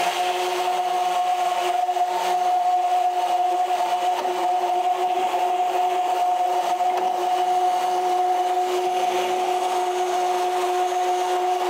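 Hyaluronic acid facial serum whirring in a small electric mixer, a steady continuous motor drone with a high tonal hum, loud and close throughout with no talking.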